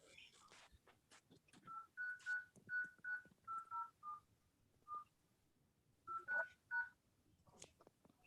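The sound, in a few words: telephone keypad tones dialing into a Zoom meeting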